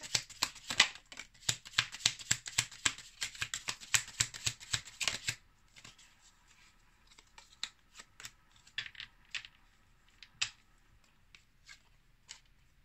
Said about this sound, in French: Allez, on va prendre 2 ou 3 cartes de cet oracle.